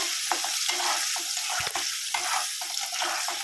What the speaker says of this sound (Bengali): তো আগে পনিরগুলো একটু ভেজে নেব